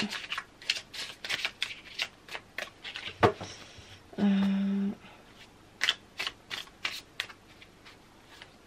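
Tarot cards shuffled and drawn one by one in a quiet room, a run of crisp flicks and snaps, with a brief tonal hum partway through.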